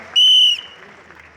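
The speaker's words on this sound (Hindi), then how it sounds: "एक बार जोरदार तालियां for Grow Rich Associates." A loud, sharp whistle rings out for about half a second at a business presentation event, after which faint applause and crowd noise continue underneath.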